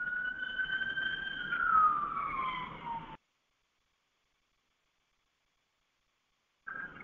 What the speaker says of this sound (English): I wanted to mute out these sirens.